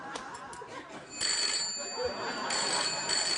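A telephone rings in a late-night talk show studio, a warbling electronic tone that comes in bursts, fairly loud over faint background noise.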